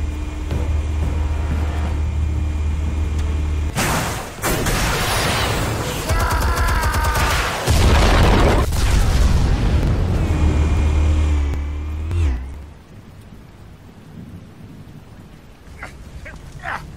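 Explosives detonate in a Batman Unmasked episode: a heavy, rumbling blast erupts, followed by further loud booms and crackling debris over several seconds, then the roar fades to a quieter tail.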